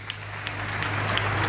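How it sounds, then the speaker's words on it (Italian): A crowd in a town square applauds Ennio Doris, a fairly faint, continuous patter of many hands heard at a distance over a low steady hum. "Ecco l'applauso, parte l'applauso sentito per quest'uomo amatissimo da tutta la gente del suo paese"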